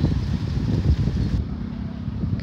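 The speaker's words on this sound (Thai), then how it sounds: "ตอนนี้ก็ประมาณ5โมงเย็นน่ะลมแรงมากเลยค่ะ" Strong wind gusts over an open morning glory field in the late afternoon after rain, a loud steady rumbling buffet with no voices.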